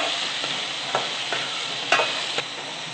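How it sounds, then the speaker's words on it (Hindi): Soaked chana dal frying with garlic and chili in a pan, a steady close sizzle with a few distinct scrapes of a spoon stirring through it, no talk. "अब इसमें भीगे हुए चने दाल डाल देंगे और इसे भी अच्छे से मिक्स कर लेंगे"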